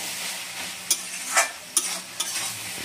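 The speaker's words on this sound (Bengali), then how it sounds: "খুলে দিচ্ছি এটা, একটু আবার নেড়ে দিচ্ছি ভালো করে" A chicken and mixed vegetable curry sizzles in a pan, with a steady hiss of frying broken by a few sharp scrapes of a spoon stirring it.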